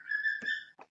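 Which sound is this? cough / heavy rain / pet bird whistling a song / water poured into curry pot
pet bird whistling a song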